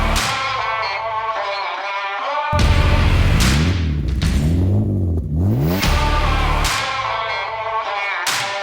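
A giveaway car's engine runs steadily while driving, with gear-change revs rising and falling under loud music and little else.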